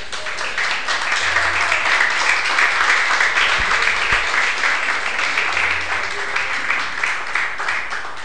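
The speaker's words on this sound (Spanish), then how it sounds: "Bríndele un fuerte aplauso al Señor." A church congregation bursts into loud, sustained applause, a dense wash of many hands clapping steadily throughout, filling the room with no voice rising above it.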